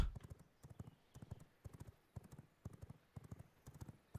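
Horse hooves clip-clop in a steady, rhythmic gait through a vampire video game, the repeated four-beat hoofbeats clear and fairly close with no talk over them.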